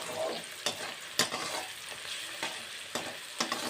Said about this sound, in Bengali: তেলটা গরম হয়ে গেছে, আমি এখন পেঁয়াজগুলো দিয়ে দেবো